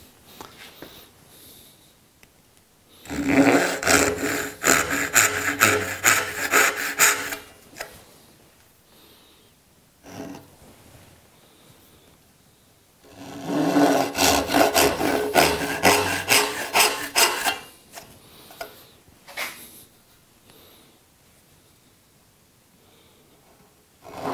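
A hand saw cuts dovetail joints in wood in two bursts of rapid back-and-forth rasping strokes, each lasting several seconds, with quiet pauses between them.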